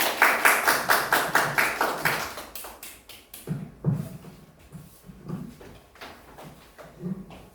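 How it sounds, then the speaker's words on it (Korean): A small seminar audience at a university rehearsal claps in a quick, rhythmic burst of close handclaps that fades after a couple of seconds, followed by scattered soft taps and thuds. "박수로 맞이해 주십시오"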